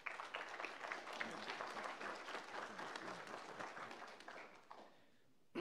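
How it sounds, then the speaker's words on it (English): A round of applause from an audience welcoming an imam to the podium at a lecture, sustained dense clapping at a faint, distant level that tapers off toward the end. "please, a warm welcome to Imam Assi with a round of applause"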